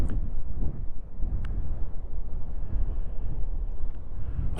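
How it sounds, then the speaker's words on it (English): Wind gusting across eroding coastal cliffs on New Year's Eve, a steady low roar and buffeting rumble on the microphone throughout, loud and continuous with no voices. "the wind has got up"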